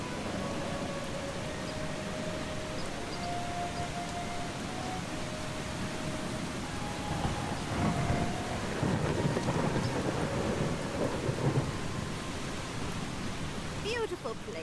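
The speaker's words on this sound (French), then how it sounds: "C'est parce qu'il pleut." Steady rain hiss with low thunder rumbles in the video game Eastshade, a continuous wash of noise that thickens in the middle stretch, with faint tonal music or ambience layered over it.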